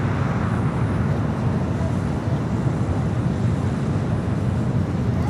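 Delta Boeing 757 on flight 479 from Boston, a steady broadband jet roar with heavy low rumble and wind buffeting, holding loud and constant throughout with no clear rise or fall.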